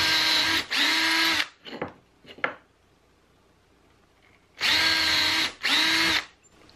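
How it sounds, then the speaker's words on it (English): A power drill whirs in two bursts, pauses amid a few small knocks, then runs again in two more bursts, loud and close. "I'm just going to drill a couple of holes here"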